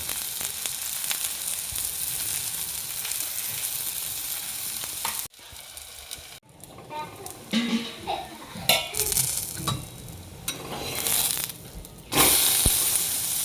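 Thalipeeth made from bhajani flour roasts on a pan until golden brown, giving a steady close sizzle with a few stirring and utensil clinks in the later half.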